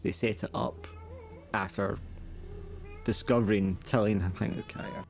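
A cat meows in short, repeated cries on a ranch, the calls coming in bursts between and over people talking nearby.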